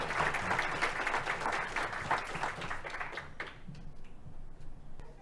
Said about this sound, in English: But please, a round of applause for Vicki.